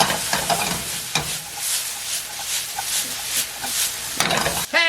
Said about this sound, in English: I got that sauce going. Really nice. Not quite even at a simmer. It's just really nice and hot.